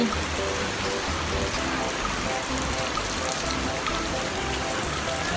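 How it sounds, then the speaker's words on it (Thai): Heavy rain pours continuously, a thick hiss with dripping and trickling water, no pauses. "ฝนตกเยอะเลย"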